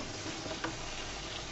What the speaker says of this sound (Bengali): সুন্দর মতো আমি নেড়ে চেড়ে নিচ্ছি।